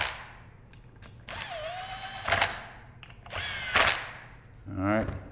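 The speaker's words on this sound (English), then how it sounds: "I like, again, impact. Run it down." Impact wrench running down a clutch bolt on a 2018-2023 Can-Am Maverick Trail and Sport during a Dalton clutch kit install, several short whirring bursts close by with quiet pauses between them.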